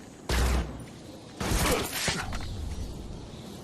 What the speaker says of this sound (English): We're going to throw down a smoke bomb and then go interrogate.